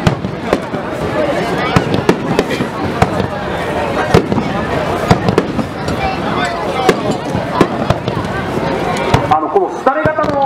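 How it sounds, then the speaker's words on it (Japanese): Fireworks burst repeatedly at the Yakeuchi Dontosai festival in 2018, sharp booms and crackling pops in an uneven stream over a steady crowd din, with people talking nearby throughout. "この廃れ型の花火もすごい綺麗ですよね。"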